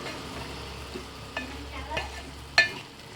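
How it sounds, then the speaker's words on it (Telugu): A spoon stirs masala into a prawn and brinjal curry in a pan, producing soft scraping and a few light clinks against the metal over a faint, low sizzle; no one speaks. "కొంచెం అలా కలిపేసుకున్నాక ఇందులోనే మనం కారం కూడా వేసేసుకుందాం"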